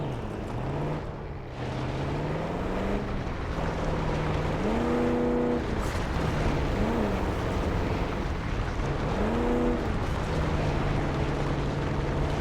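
A car engine in the Call of Duty: Black Ops 6 video game, droning steadily with revs rising and falling as gears shift, continuous and fairly close.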